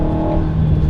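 A 2019 Alpine A110 accelerates hard from standstill toward 80 on a snowy road, its engine a loud, close, steady drone with strong low rumble throughout the brief burst.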